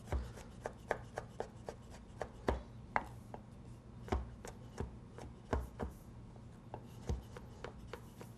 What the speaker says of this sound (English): Stubborn apricot, didn't want to cut.